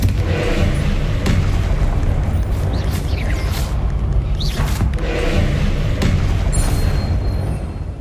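Confringo blasting-spell explosions in the Hogwarts Legacy video game, a loud, continuous rumbling barrage of booms with several sharper bursts and whooshing spell sounds layered on top.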